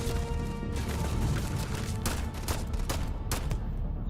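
Rapid pistol fire in the video game Starfield, a dense string of sharp cracks over a busy, loud combat soundscape, with no talking.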